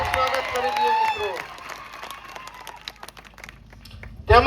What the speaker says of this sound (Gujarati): આપણા વર્ષાબેન વસાવાનું આપણે તાળીઓના ગણગણાટથી સ્વાગત કરી દઈએ મિત્રો